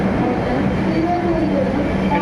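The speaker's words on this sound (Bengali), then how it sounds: "তো তিরুবনন্তপুরম শালিমার এক্সপ্রেস চলে এসছে আমাদের সামনে।" The Thiruvananthapuram–Shalimar Express rolls in beside a crowded platform, a steady low rumble and hum of the moving train heard close, with a voice talking over it throughout.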